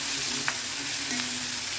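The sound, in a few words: sautéing snake gourd seeds with onion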